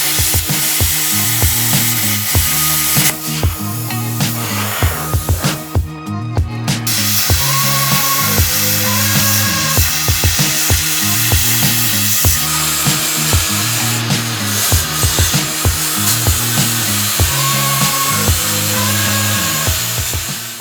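Metal brackets for a Jeep XJ leaf spring hanger being cut with a power tool, a loud continuous grinding whine with repeated rhythmic strokes, close and without talk.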